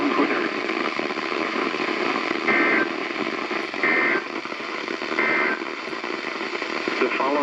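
Emergency Alert System tones coming through a weak, static-heavy weather radio broadcast, short alert bursts repeating under a constant hiss of noise.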